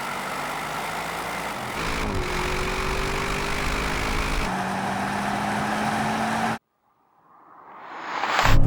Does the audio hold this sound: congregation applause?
no